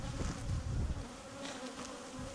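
Honey bees buzz at a beehive kept by a beekeeper on the island of Karpathos, Greece, a faint, steady droning hum with a rough, noisy texture.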